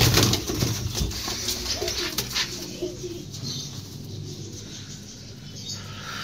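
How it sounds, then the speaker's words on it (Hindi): A Kabuli pigeon coos softly nearby, with low, throaty calls rising over a steady background hum and no voices. "ये काबली कबूतर लग रहा है"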